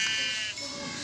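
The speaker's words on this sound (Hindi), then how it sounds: "ये देखो बकरी" A goat in the Minecraft video game bleats once in a short, nasal, wavering call over light background game sound.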